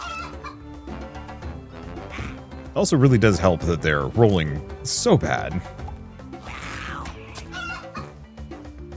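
Clucking chicken in the claymation tactical roguelike Dobbel Dungeon, a burst of loud rooster-like squawks mid-clip with softer clucks around it, partly under someone talking over the game sounds.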